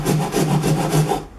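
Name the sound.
filing the edges of a drilled hole in a scooter trunk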